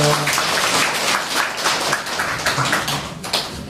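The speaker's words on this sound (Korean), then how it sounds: "박수 많이 치십시오." An audience claps loudly at an essay-recitation contest and year-end gathering of a literary society. The applause is close and energetic, with crisp individual claps rising and falling throughout.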